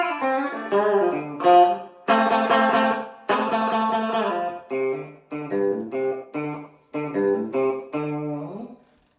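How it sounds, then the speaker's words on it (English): A Gretsch Electromatic G2504 electric guitar plays a run of chords and single notes through a slapback echo delay, each attack followed by a quick repeat and clean sustain, loud and alone. "I do use delay on it, the slap back echo."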